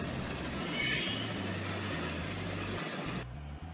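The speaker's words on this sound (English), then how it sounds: "Look, there it goes. This is a train." A train rolls past on its tracks, a loud, sustained rumble with a broad hiss of wheels and carriages that holds steady before cutting down near the end.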